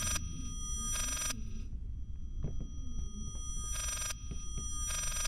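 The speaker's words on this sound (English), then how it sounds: "when I first heard the phone ringing noise, I thought it was a glitch because it immediately went away" Reversed telephone ringing in the horror game Layers of Fear, four short bursts of ringing in two pairs separated by quiet gaps, over a low throbbing hum.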